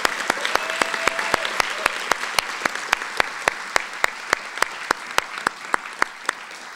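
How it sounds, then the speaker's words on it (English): Steady applause from the audience at an executive MBA commencement ceremony, with sharp, evenly spaced claps standing out near the front above a dense, continuous wash of clapping that fades slightly toward the end. "please join me one more time in applauding Kathy"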